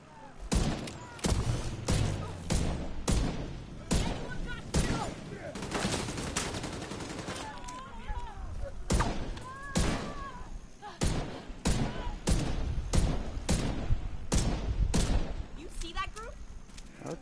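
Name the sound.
gunfire from rifles in the video game The Division 2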